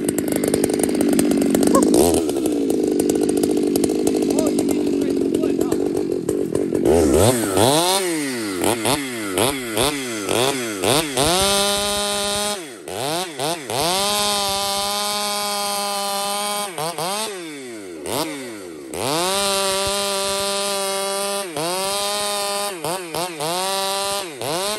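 A Husky 371 chainsaw felling trees with wedging, loud and close, idling briefly before revving hard into repeated high whining cuts that rise and dip in pitch as the bar bites the wood, with no talk.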